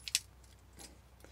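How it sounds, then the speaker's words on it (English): Keys for a Land Rover Defender jangle briefly at the start in a couple of quick metallic chinks, with a faint rattle later, all quiet and close. "let's get my keys out"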